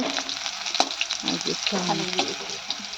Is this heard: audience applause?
no